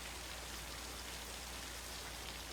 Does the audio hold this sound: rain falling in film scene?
yes